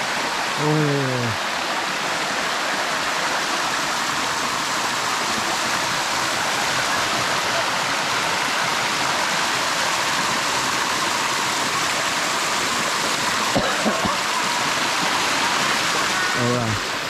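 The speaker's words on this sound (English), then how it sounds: "the rain is not that much pouring now, so it's like much better" Steady broadband roar of water from a waterfall in Thailand during rain, continuous and loud throughout, with a few brief voice sounds near the start and end.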